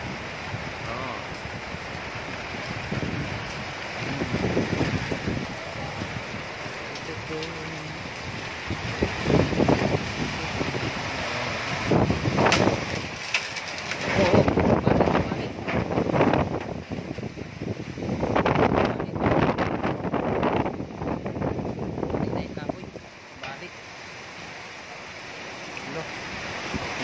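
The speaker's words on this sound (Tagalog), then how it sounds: "sobrang lakas ng hangin" Strong typhoon wind during Typhoon Ulysses roars and gusts in surging bursts against the microphone, loud and continuous for almost half a minute, with brief voices partly buried under the rushing noise.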